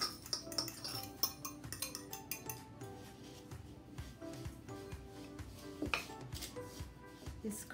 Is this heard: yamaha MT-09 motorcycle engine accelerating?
no